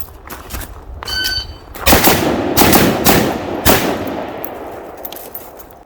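A PSA GF5 Romanian underfolder AKM rifle fitted with a sugar scoop muzzle brake fires a string of sharp, loud shots in fairly quick succession, each crack leaving a ringing outdoor echo, with no voices.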